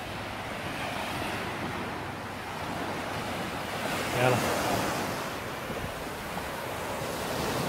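Sea waves breaking on a Maldives beach, a steady wash of surf with wind buffeting the microphone. A faint voice speaks briefly partway through.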